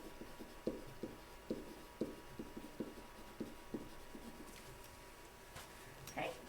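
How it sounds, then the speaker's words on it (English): Marker writing on a board in a quiet room, a faint, steady series of short scratchy strokes at an even rhythm, with a light rustle near the end. "I wrote fixed expense and I need to write"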